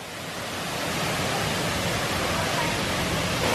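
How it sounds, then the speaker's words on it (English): Waterfall at a sculpture park in Pattaya, swollen after heavy rain, giving a steady, broad roar of rushing water that swells slightly at the start and then holds loud and even throughout, with no talk over it. "And then you've got the waterfalls coming up here now."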